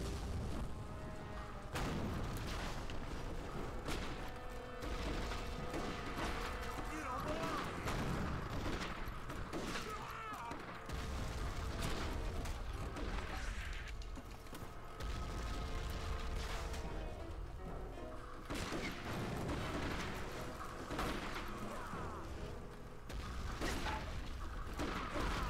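Booming cannon blasts and rumbling explosions from the Xbox game Red Dead Revolver repeat over a dense, constant game din with music, the heavy thuds coming every few seconds.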